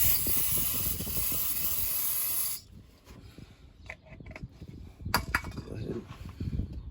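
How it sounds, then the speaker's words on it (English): Brake cleaner sprayed on a Honda Accord during a service, a loud continuous aerosol hiss for about two and a half seconds, then stops, followed by quieter clinks and handling noises. "let's spray some brake clean on it."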